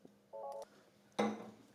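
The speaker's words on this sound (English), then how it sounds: "let me answer the phone." Telephone tones during a classroom lesson on solving polynomials: a short steady two-tone beep pair, then a brighter, louder burst of ringing that fades over about half a second, alone without talk.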